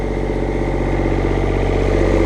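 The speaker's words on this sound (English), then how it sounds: "I'll fire up the engine a bit." A machine with a boom arm running its engine, a steady loud mechanical drone at an even idle with a faint rhythmic pulse, close by and with no talking.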